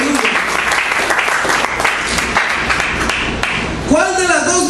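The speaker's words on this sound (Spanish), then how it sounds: "¿Cuánto le pueden dar un aplauso a Cristo en esta noche?" A church congregation breaks into loud, sustained applause during an evening service, a dense steady roar of clapping that fills the room before a voice cuts in at the end.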